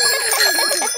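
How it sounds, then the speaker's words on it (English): A bicycle bell rings with a bright, sustained metallic tone, close and clear, shimmering for about a second. "Ringing your bell lets others know you are there."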